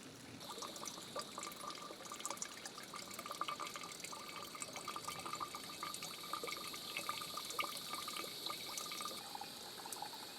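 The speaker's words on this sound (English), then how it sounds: "Start the dripping." Water drips and trickles steadily from a hung bag at a woodland camp, a faint, continuous patter of small droplets with no voices over it.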